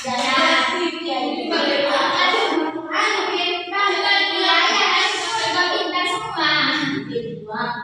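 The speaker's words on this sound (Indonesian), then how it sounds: "Tepuk tangan dong guys." Schoolchildren in a classroom clap their hands together in a rhythmic cheer while chanting in unison, loud and close, with the group's voices ringing over the clapping throughout.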